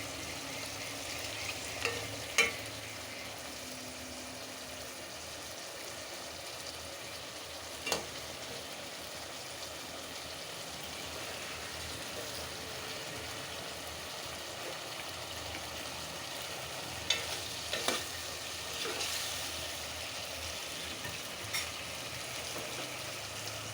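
Fish curry with big fish, potato and tomato sautéing in a pan: a steady, close frying sizzle fills the whole stretch, broken by a few sharp spatula scrapes and clinks against the pan.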